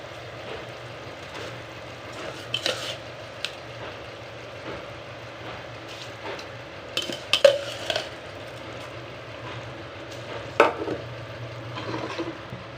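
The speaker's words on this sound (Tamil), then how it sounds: "இப்போ நம்ம அரிசி போட்டுக்கலாம்." Uncooked rice goes into a pot of water at a rolling boil for egg biryani. A steady bubbling hiss continues throughout, broken by scattered light clinks and scrapes of a utensil against the pot.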